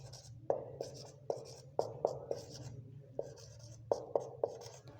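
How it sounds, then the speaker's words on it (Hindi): Chalk or marker writing exponent rules on a board in a 9th-class maths lecture, heard as sharp taps and scratchy strokes in irregular clusters over a low steady hum, with no speech. "वो मैं यहाँ पे लिख देता हूँ"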